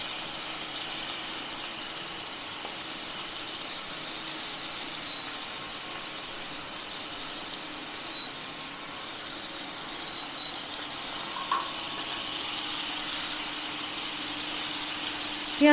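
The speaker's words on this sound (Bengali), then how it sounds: "পেঁয়াজটাকে ভেজে নেবো।" Onions frying in mustard oil with black cumin, a steady, even sizzle close by that continues alone without talk.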